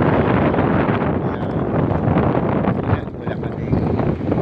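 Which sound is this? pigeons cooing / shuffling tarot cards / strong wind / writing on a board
strong wind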